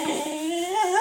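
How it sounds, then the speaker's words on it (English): A dog howls in a workshop where an old oak cabinet is being restored, giving one sustained, wavering howl that rises in pitch toward the end, close and fairly loud. "Oh, that's a lovely howl."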